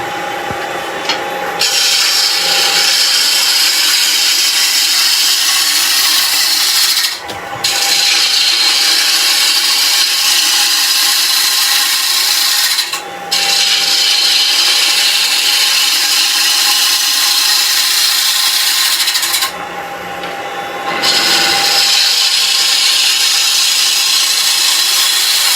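A wood lathe turns a teak toffee dish as a tool drags across the spinning timber, giving a loud, steady scraping hiss broken by three short pauses.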